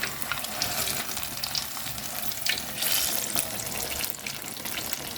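Banana fritters, pazham pori, frying in hot oil, a steady soft sizzle and bubbling with faint crackles, close and quiet, uninterrupted by voices.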